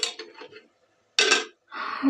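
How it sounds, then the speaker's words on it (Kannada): Metal utensils clink against a pot in short bursts, followed by a brief hissing rush as a tempering of hot oil, mustard seeds and curry leaves is tipped into curry. "ನೋಡಿ ಇವಾಗ ಸಾರಿಗೆ ಒಗ್ಗರಣೆ ಹಾಕ್ತೀನಿ"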